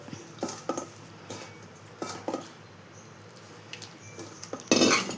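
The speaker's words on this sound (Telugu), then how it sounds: "దీంట్లోకి తగినంత ఉప్పు వేసుకొని పెరుగు కూడా వేసుకొని బాగా కలుపుకోవాలి" Spoon scraping and clinking against a steel vessel while mixing cooled rice with salt and curd for dadhojanam, a festival offering; scattered close taps and scrapes with a louder clatter near the end, no voices.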